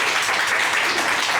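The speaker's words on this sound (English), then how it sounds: "So give it a big hand to Takumi." An audience claps for a performer at a music recital, a dense and continuous wash of applause held at a steady level.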